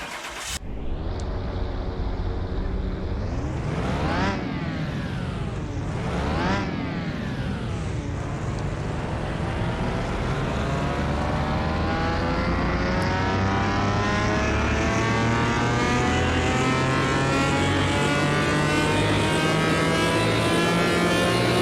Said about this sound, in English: are we all ready for the glorious, glorious noise that is a V12?